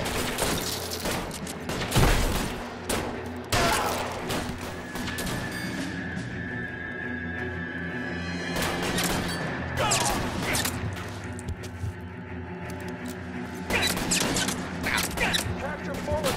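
Gunfire during a shootout in L.A. Noire: repeated loud cracking shots and bursts over a dense rumbling backdrop, with shouting voices mixed in throughout.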